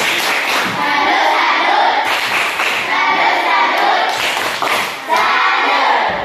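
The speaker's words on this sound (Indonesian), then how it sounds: "Oke, tepuk salut dulu kita semua. Tepuk salut." Classroom of students performing a rhythmic 'tepuk salut' clapping routine during a religious studies lesson, with fairly loud, patterned claps and thuds running throughout, mixed with children's voices and chanting.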